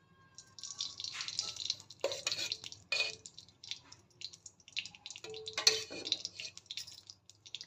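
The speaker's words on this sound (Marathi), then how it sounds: "गॅसवर कढई गरम करायला ठेवलेलं आहे त्यामध्ये आता दोन चमचे तूप घालते" Two spoons of ghee go into a kadai heating on a gas stove before roasting gavhale for kheer, giving soft drips, light spoon-and-metal clinks and faint sizzling close by, with no talk.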